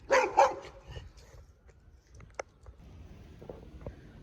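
A dog barks on a street, with two loud close barks at the start and then quieter scattered yips and whimpers over faint outdoor background.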